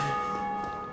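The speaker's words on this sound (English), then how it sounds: "every time that the bell rings" A bell rings in the video game Dark Souls Remastered, a sustained, resonant tolling tone heard alone and fairly faint, fading slightly across the brief moment.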